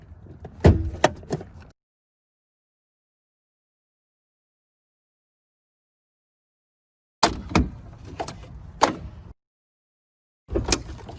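A Ford F-150 EcoBoost hood release lever is pulled and the hood opens, giving short clusters of sharp clicks, clunks and rattles, then a long silence and another group of mechanical thumps, close by without speech.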